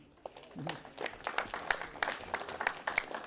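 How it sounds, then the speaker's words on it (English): An audience at a Kiko goat sale gives a round of applause, a scattered and fairly soft patter of clapping with murmured voices underneath. "Let's give Tommy and his ring men a round of applause."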